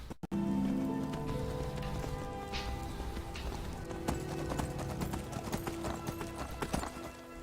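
Horse hooves clip-clop steadily on the ground in Skyrim, a continuous rhythmic patter that sits under a softer wash of rain-like ambience, with no talk.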